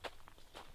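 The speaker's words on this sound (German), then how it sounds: "Ich höre schon Schritte." Footsteps crunch through a forest at night, three or four quick steps spread across under a second, fairly close and alone with no talking.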